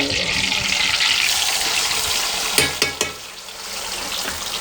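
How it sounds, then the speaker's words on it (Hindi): Chicken chargha frying in oil in a kadhai: a steady, loud hiss and crackle runs throughout, with a few sharp clatters and bumps near the end as the pieces are stirred or moved. "ये हमारे पास जो चरगा है इसे हमने कढ़ाई में डालना है"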